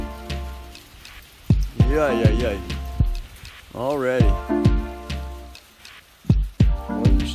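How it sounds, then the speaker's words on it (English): Hail falling outdoors on a cold November day around 40 degrees, a steady soft patter and hiss running underneath close conversation between people throughout. "It's hailing."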